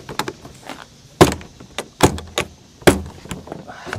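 A removable door is pulled off a Seismic Audio 12-unit rack case, producing a series of sharp clunks, knocks and rattles at close range, with several louder hard impacts between lighter taps and no talking.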